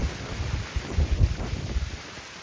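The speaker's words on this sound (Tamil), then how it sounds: "காற்று பயங்கர காற்று ஃப்ரெண்ட்ஸ்." Strong wind buffeting the microphone in low, rumbling gusts that swell and fade unevenly, with no voices.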